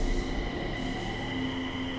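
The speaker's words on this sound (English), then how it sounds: "The train rattled through the night," A train rolls steadily along the rails at night, a continuous close rumble and rattle of the carriage with a faint high whine from the wheels, no voices.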